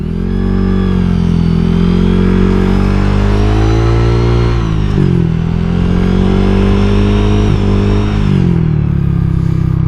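Honda Vario 125 scooter engine droning steadily while riding, loud and close, with a strong low hum and shifting harmonics as the revs dip and climb, no talking over it.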